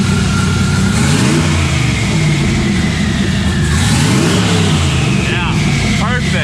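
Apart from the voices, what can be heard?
car engine revving on a dyno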